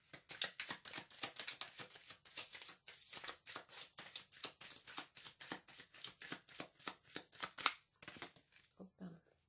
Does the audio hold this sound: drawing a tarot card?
yes